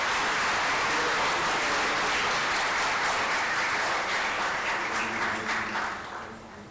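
Sustained applause from a large audience at a formal Antarctica Day ceremony marking the release of a commemorative postage stamp, steady and dense throughout before easing off at the end.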